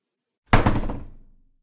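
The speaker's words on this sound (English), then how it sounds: "The door was pushed by Eiji, who walked in." A door pushed open in an audio drama lands as one solid knock-like thump, followed by a short rattling decay that fades within about a second, isolated with no talk.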